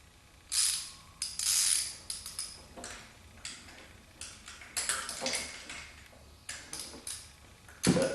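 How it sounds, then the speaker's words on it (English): A ratcheting wrench works a distributor hold-down bolt loose on an older car engine, giving repeated close clicking bursts in uneven swings, with brief pauses between strokes. "this wrench has enough of a bend in it that fits underneath, and you can get a good swing to loosen it"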